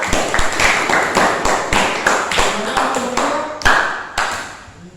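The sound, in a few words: classroom applause for group 2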